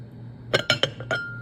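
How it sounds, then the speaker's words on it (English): Frozen lemon juice ice cubes clink against one another in ice cube trays, four or five sharp glassy clicks close by, spaced unevenly over about a second. "here are 60 lemon ice cubes, my ice cube trays"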